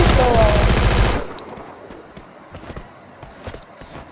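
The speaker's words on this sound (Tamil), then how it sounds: "MP40 வச்சு அதுவாக புல்லட் போகும்." A fast, loud burst of MP40 submachine gun fire in the Free Fire video game cuts off after about a second, followed by faint footsteps and quieter game sounds.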